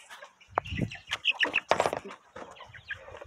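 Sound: chickens clucking and flapping wings

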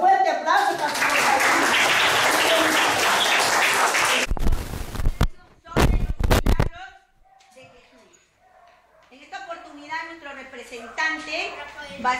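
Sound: applause at school reading contest

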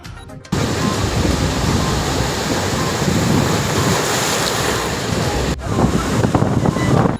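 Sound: rough sea waves and wind, Bay of Bengal at Kuakata

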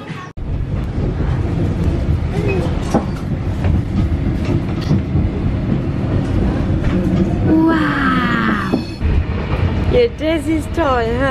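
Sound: train station

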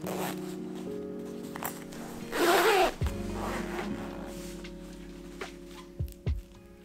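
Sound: zipper being fitted onto sewn camper fabric panels

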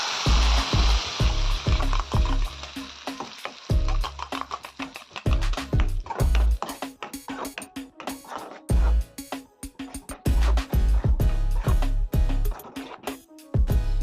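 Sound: grated coconut added to sizzling tempering oil

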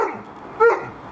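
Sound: dog barking

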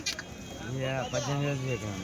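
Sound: goats bleating at Kadiri goat market

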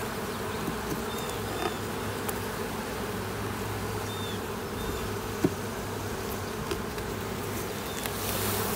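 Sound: honeybees buzzing during a hive inspection

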